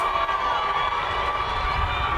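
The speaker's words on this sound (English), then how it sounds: "Crowd does not seem happy about this." A football crowd at the Fort Stockton Panthers versus Monahans Loboes game reacts unhappily to a penalty, a steady, dense roar of many voices filling the stands without a break.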